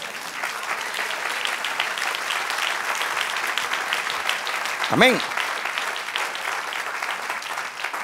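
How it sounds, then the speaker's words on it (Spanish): Church congregation applauding the Lord during a prophetic sermon, a steady wash of clapping that carries on for several seconds, with a voice briefly calling out in the middle. "Era un aplauso al Señor."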